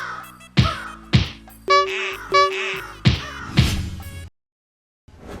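A crow caws several times in a loose rhythm, harsh repeated calls close by and fairly loud, ending in a brief silence.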